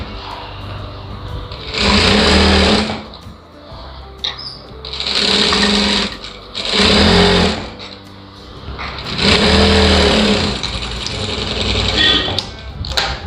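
A sewing machine runs in four strong, close bursts of fast whirring stitches while sewing a blouse lining, with short quieter gaps between the runs.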